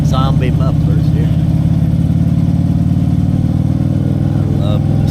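A trike engine with a 6-speed gearbox rumbles steadily through loud zombie mufflers, a deep continuous throb close by, with someone talking briefly at the start and end.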